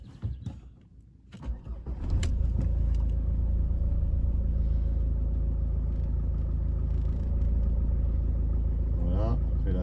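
A 2008 Mercedes W169 A-Class CDI 109 diesel with automatic gearbox and a stored fault cranks and fires after a brief quiet moment, then settles into a loud, steady diesel idle rumble close by.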